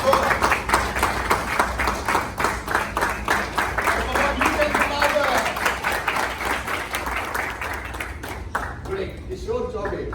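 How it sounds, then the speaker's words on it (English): An audience gives a sustained round of rhythmic applause welcoming author Kishore Chaubey, dense steady clapping that fades near the end, with a voice speaking over it. "Then give him a big round of applause,"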